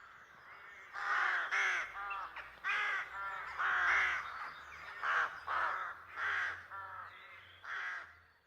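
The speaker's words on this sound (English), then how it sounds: "The rook is a corvid, a member of the bird family that includes ravens, jackdaws, carrion crows, magpies and jays." A rook, a corvid, caws repeatedly in harsh, throaty calls, delivered in irregular bursts of one to three notes that sound fairly close and loud, with no voices present.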